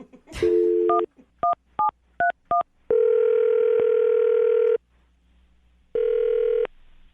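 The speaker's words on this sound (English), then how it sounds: "I'm going to dial the phone number right now" A landline telephone receiver lifted, then a quick run of touch-tone dialing beeps, one after another, followed by long steady ringback tones with a pause between, loud and close with no talking.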